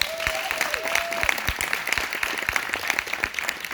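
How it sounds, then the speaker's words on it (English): A small audience at a book launch gives a round of applause, individual claps standing out in a loose, moderately quiet patter, with a brief high tone sounding near the start. "Let's give her a hand clap."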